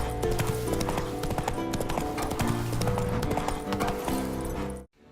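Horse hooves clip-clopping in The Witcher 3 game, a steady rhythmic trot of hoofbeats over a busy layer of music and ambience, loud and close, ending abruptly in silence.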